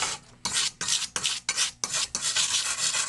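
Brisk scrubbing of built-up residue off circular saw blades, including a 40-tooth Craftsman blade, a series of loud raspy strokes with short pauses between them, close by and with no talk.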